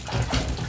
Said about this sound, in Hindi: और अभी इधर पे भी पानी चालू है।